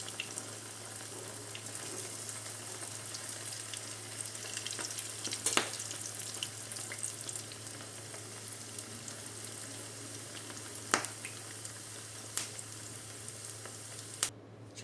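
Potato pieces deep frying in hot oil for aloo 65, a soft continuous sizzle with occasional sharp clinks and scrapes from a utensil, faint and steady.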